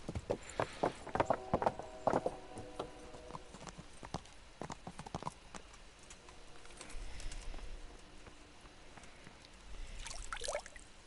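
Horse hooves clip-clopping in the medieval game Kingdom Come: Deliverance, a run of sharp hoof strikes up close at first, then thinning out under faint birdsong and cooing pigeons.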